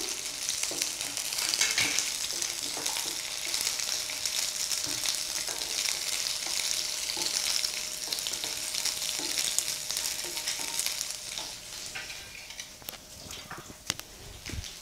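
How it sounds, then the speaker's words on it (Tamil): Steady, loud sizzling of onions frying in hot oil, with occasional stirring scrapes and crackles throughout, no voices. "நறுக்கி வச்சுருக்கக்கூடிய வெங்காயத்தை அதில் போட்டு"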